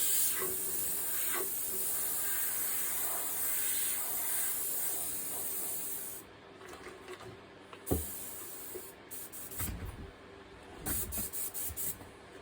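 An airbrush sprays paint in a steady hiss while flames are painted, then cuts into short bursts and pauses, close and moderately loud.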